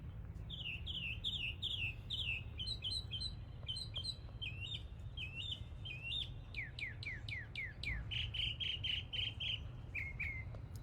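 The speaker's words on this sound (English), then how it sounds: "The bird is yelling like crazy" A single bird yells in rapid, insistent bursts of high chirps and descending squawks, sounding fairly close and carrying clearly over a steady low background hum with no talking.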